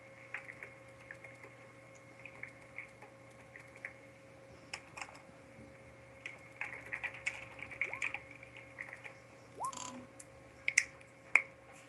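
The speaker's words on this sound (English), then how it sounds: "That furious typing." Rapid, irregular clicks of a computer keyboard being typed on hard, moderately close, in bursts over a faint steady hum.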